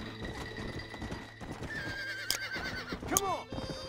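A horse in Red Dead Redemption whinnies twice over steady clip-clopping hooves, with a high ringing tone and a voice talking underneath.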